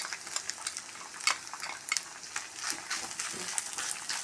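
Thoran stirred in a pan with a spoonful of chili powder gives a continuous close sizzle, broken by soft spoon scrapes and stirring sounds.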